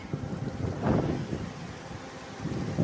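Gusty wind in a rainstorm roars and buffets the microphone in uneven surges, rising loudest around the middle, with no voices heard.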